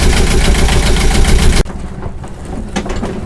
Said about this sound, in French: Second démarrage de moteur après 5 heures de voile.